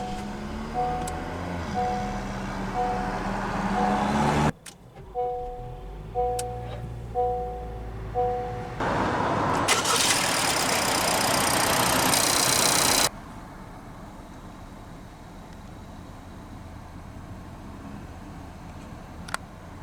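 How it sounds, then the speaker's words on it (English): A 2023 Honda CR-V EX-L with push-button ignition cranks and starts, then settles into a steady, smooth idle heard from inside the cabin, followed by quieter ambient hum. "let's go ahead and start the engine"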